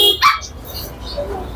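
A two-month-old friendly puppy at a pet market in Dhaka gives a single short, sharp bark up close, followed by quieter background noise.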